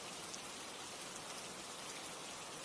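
Steady, dense rain falls without pause, a continuous even hiss of drops striking a surface, with no voices over it.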